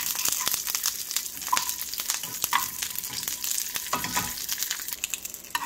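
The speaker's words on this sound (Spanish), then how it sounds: "Vamos a dorar también nuestra cebolla y el ajo" Onion and garlic brown in oil in a pan for mole, a lively close sizzle with frequent clicking stirs and scrapes running throughout, and no speech.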